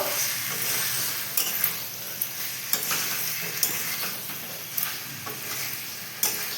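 Chicken and potatoes being stirred and sautéed in a pan for a Bengali chicken curry: a constant loud sizzle with regular scraping clinks from the spoon, close up, with no talk.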